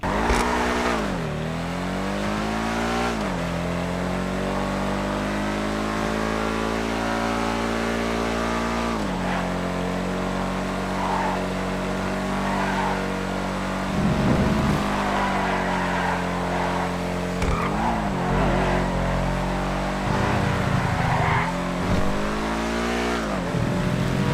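A Sterling GT sports car in a racing video game revs and shifts, its engine note climbing and dropping repeatedly, with brief tire squeal, loud and continuous with no voices.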